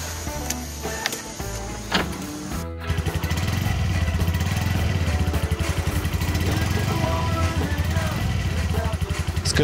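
A motorbike rides through the streets of Bali, its engine settling into a loud, steady, buzzing drone after a few seconds of clattering handling noise, heard up close.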